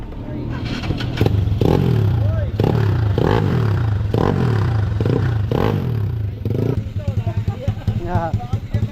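A large engine runs loudly close by with a steady low rumble and rhythmic clanking and rattling pulses, sputtering unevenly near the end.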